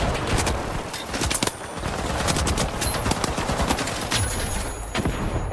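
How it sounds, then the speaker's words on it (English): Rapid bursts of gunfire from a shooter video game crackle loudly and densely, with sharp repeated shots layered over a noisy background. "Most guns seem punchy enough."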